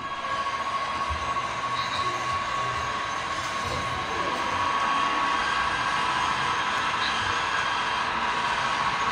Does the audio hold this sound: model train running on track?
yes